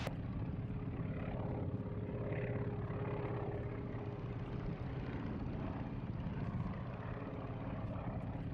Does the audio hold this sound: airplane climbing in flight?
yes